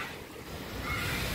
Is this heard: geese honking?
no